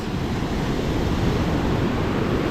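Rough sea waves wash continuously along the shore during lüfer spin fishing in Turkey, a loud, steady broadband roar mixed with wind buffeting the microphone.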